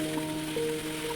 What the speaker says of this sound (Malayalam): ഉള്ളി നല്ലതുപോലെ വഴറ്റിയെടുക്കുക.